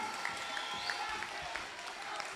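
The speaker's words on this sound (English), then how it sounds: "I ask you to give them a tremendous round of applause for standing for unity" A crowd at a New National Party special meeting in Grenada applauds steadily, a dense sustained clapping with a speaking voice over it.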